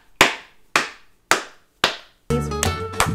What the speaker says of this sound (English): You know how I feel about clapping.